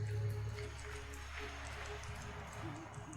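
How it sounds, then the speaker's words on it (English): Steady rain falls in Skyrim Special Edition, a soft continuous hiss of drops with faint scattered ticks over a low rumbling bed, fairly quiet and without talk. "And it's raining."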